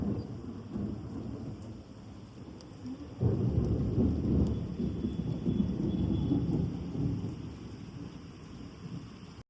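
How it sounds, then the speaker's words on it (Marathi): Rain pouring down, heard from a terrace, with a low rumble of thunder swelling midway over the steady patter, fairly close and continuous. "सुंदर पाऊस पडतोय."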